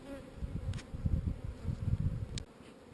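Honey bees drone in a dense, steady buzz at an open beehive during an early April hive inspection, close and continuous, with a few individual bees flying past nearer.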